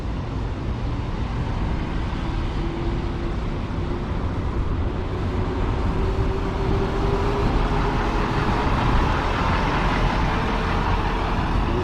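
An American Stage Tours coach bus, a Bravo model, rolls up with a steady low engine rumble and road noise that holds close and even throughout, no voices over it.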